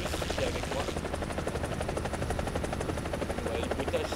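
A helicopter engine in the War Thunder video game produces a steady, loud rotor drone with a rapid rhythmic chop and buzzing whine, continuous throughout, heard alone without talk.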